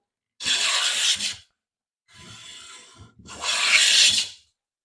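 A hand plane shaving a wooden board, two long close rasping passes separated by a softer, quieter stroke, with no voices.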